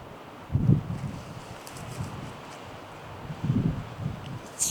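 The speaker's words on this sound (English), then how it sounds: "It's really windy now" Gusty wind sweeps over high Utah mountain terrain on a mule deer hunt, two stronger buffeting blasts standing out over a low, steady rush, with no one speaking.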